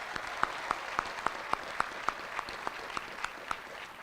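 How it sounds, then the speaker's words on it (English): Audience at a cyber charter school graduation applauding students, heard as a quiet, sparse, evenly spaced run of claps, as if from a small group, at a distance with no talking. "Please join me and congratulate these students with a round of applause."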